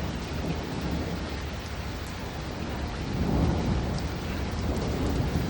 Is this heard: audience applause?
no